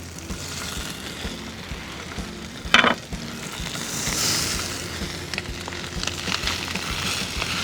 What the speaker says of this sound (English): Gonna add just a little bit more oil. And we'll put in our potatoes.